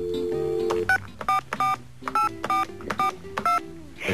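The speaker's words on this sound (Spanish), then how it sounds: "Esto es un teléfono muy raro porque primero suena y después marca" A telephone gives a long ringing tone followed by a quick series of separate touch-tone dialing beeps, crisp and close.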